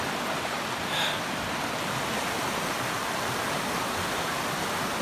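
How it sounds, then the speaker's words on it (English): A river runs beside a rocky hiking trail, a soft, steady wash of flowing water heard from nearby, with a brief faint rise near the start and no voices. "The whole trail is right next to this river right here."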